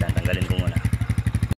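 A SKYGO BOSS 150 motorcycle engine with the silencer removed runs up close, making a loud, rapid, even popping putter that cuts out abruptly just before the end.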